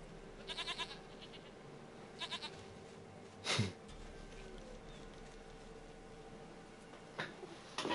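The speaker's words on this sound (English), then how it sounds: "Goat of mine, dearest, sweetest goat." A goat bleats in The Witcher 3: Wild Hunt, several short wavering calls in quick bursts over a quiet game ambience, with a louder thump partway through.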